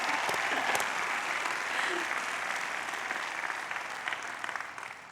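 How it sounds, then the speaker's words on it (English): A university commencement crowd applauds for the military and service members, sustained dense clapping from a large audience filling the hall, holding steady and easing slightly toward the end. "applause for the military and our service members."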